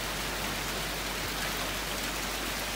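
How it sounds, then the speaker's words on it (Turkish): Steady rain falling outdoors on a gloomy day, a continuous soft hiss of drops with no gaps, moderately close and alone without voices. "Bu arada yağmur başladı."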